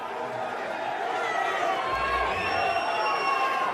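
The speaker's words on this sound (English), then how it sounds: "Everyone's just shouting out Usyk." A large boxing arena crowd shouts a fighter's name in a dense, continuous roar of voices and chatter, steady and moderately loud throughout.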